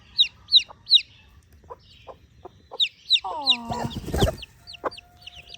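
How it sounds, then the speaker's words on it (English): Chicks cheep in rapid, high repeated peeps, with a hen clucking among them on a farm morning outdoors; a few short clucks and a brief voice are heard, all fairly close and clear. "they cheep really loud and she comes running back to them"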